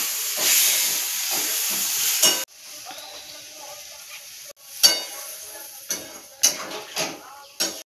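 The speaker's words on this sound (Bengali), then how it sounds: "বেশ সুন্দর ফুটে গেছে" Egg curry with fried potatoes and salt boils in a pot, a loud steamy hiss at first, then quieter bubbling broken by sharp spoon clatters and scrapes.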